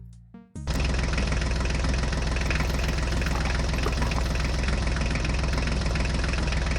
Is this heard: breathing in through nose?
no